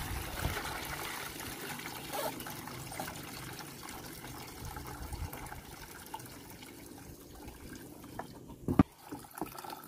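Clothes are washed by hand in a tub of cold water with detergent, giving soft continuous sloshing and trickling, fairly quiet, with a sharper splash near the end and no voices.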